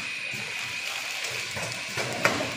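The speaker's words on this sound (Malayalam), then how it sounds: "വളരെ ട്രബിൾ ഫ്രീ ആയിട്ട് ഓപ്പറേറ്റ് ചെയ്യുന്ന ഒരു മെഷീനാണ് ഈ കോളർ ടൈപ്പ് സെർവോ ബാഗർ വിത്ത് സെർവോ ഓഗർ ഫില്ലർ മെഷീൻ" A collar-type servo bagger with a servo auger filler packs chilli powder, giving a steady mechanical whir with a constant high whine, soft clicks and a sharper clack near the end.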